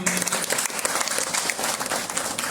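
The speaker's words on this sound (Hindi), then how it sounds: "उनके लिए भी एक जोरदार ताली" Audience at a motivational seminar in Banka giving steady applause, a dense continuous patter of clapping at moderate level throughout.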